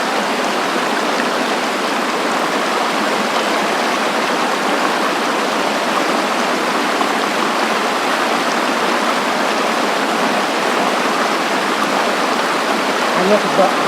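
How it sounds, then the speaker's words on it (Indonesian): A rocky river runs in a steady, loud, unbroken rush of water that fills the whole stretch with constant broadband noise. "Hanya sungai biasa,"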